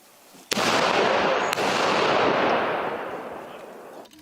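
One loud, sharp blast from a police bomb squad's controlled detonation of a rocket grenade is followed by a long roaring rumble that slowly fades over several seconds, with a second crack shortly after the first.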